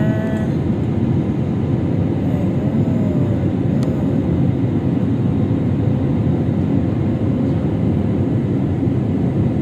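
Inside an airplane cabin on a night flight, a loud, unbroken engine and air roar drones evenly throughout, with no voices.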